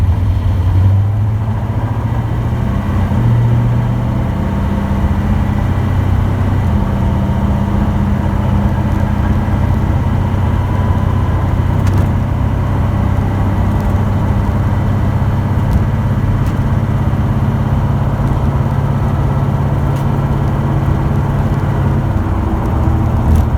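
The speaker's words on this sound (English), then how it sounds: "let's see how this car drives with the rebuilt 200-4R transmission" A car with a rebuilt TH200-4R automatic transmission drives steadily, its engine droning loud and close throughout with subtle shifts in pitch as it changes gears.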